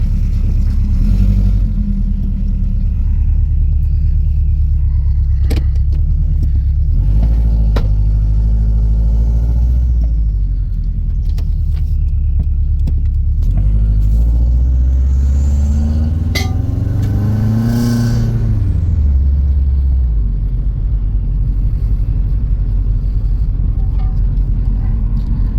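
A Subaru Forester XT with an oil leak driving around a neighborhood, heard from inside as a loud, steady engine drone with rising revs through gear changes, rumbling road noise and occasional small clinks and rattles.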